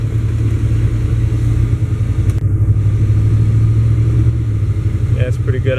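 A car with a freshly rebuilt distributor rolls down the street, its engine a steady, loud mid-pitched drone and low rumble throughout, with a faint brief rattle near the end.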